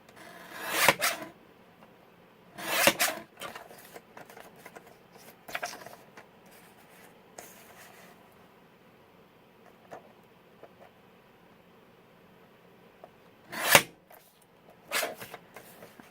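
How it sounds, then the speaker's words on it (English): A paper trimmer slices straight through card for a junk journal pocket, giving several brief rasping strokes spaced apart with quiet gaps between, close and moderately loud. "I just use my trimmer and I cut it all straight"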